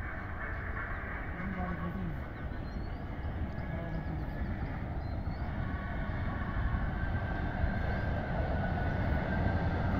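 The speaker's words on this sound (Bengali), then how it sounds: "এই যে শিয়ালদা ট্রেন ঢুকছে" A Sealdah-bound local train rolls in with a steady, continuous rumble and rattle of wagons close by, running the full length with faint outdoor background.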